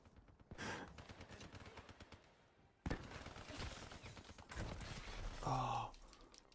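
Automatic gunfire from a favored gun in the video game Call of Duty Black Ops 3, sounding as dense repeated bursts that start and stop across the span, loud and close, with a player's voice in between.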